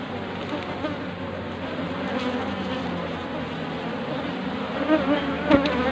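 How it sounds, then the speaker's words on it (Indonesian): Steady, dense buzzing of many bees at a hive hole during honey harvesting fills the whole stretch, close and continuous, with no talking. "untuk lebah-lebahnya yang tersisa di lubang ini"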